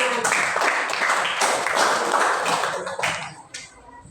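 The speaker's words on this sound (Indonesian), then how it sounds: "Tepuk tangan." A group of students in an Indonesian classroom clapping their hands together, a dense burst of overlapping claps that holds steady and then thins out toward the end, with faint voices underneath.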